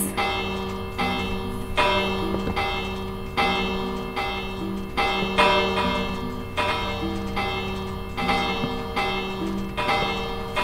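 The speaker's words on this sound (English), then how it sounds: "I'll put a few more bells in." Many Minecraft bells rung by a redstone auto bell ringer in the video game produce a dense, continuous run of overlapping metallic clangs at a quick, regular pace, bright and loud throughout with no voices.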